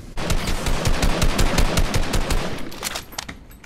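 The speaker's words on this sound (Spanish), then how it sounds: "necesito disparar un poco más tranquilo, porque si disparas como spameando, como que la dispersión se abre mucho" Rapid automatic gunfire in Fortnite, a loud burst of closely spaced shots in steady rhythm lasting a few seconds before tapering off, with no talk over it.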